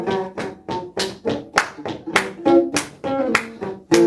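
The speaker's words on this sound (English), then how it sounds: "Clap your hands if you want to." Audience in a theatre clapping in time with music, sharp individual claps landing on a steady beat about twice a second, close and distinct, over a faint voice and tones.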